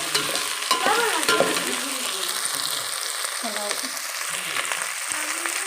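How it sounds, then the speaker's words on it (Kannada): Carrots, potatoes and beans fry for a vegetable pulao, giving a continuous sizzling hiss in the pan with repeated scraping stirs of a spoon, close and fairly loud. "ಆಲೂಗಡ್ಡೆ ಬೀನ್ಸು ಎಲ್ಲನೂ ಚೆನ್ನಾಗಿ ಫ್ರೈ ಮಾಡ್ಕೋಬೇಕು"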